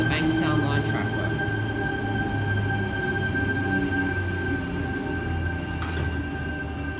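Sydney Trains T4 service at Erskineville station, a steady loud rumble of rolling wheels and carriages with a sustained squeal over the top, close by; faint voices underneath.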